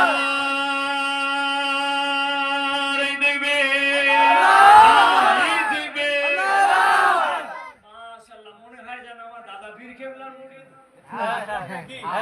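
At a Bengali Islamic waz gathering, a lone amplified voice holds a sung call before a large crowd roars back a loud unison chant in answer to the takbir, echoing through the PA, followed by quieter voices.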